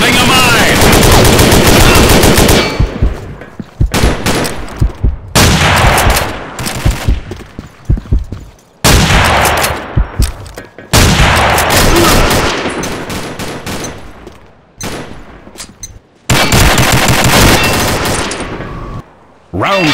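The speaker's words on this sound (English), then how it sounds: "Fire in the hole! Grenade!" Gunfire crackles in rapid bursts in the first-person shooter Combat Arms on the Oil Rig elimination map, loud and close. Dense volleys are split by short gaps, with heavy blasts and game voice callouts mixed in.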